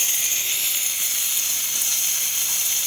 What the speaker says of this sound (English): we're going to see much more steam coming out from the one.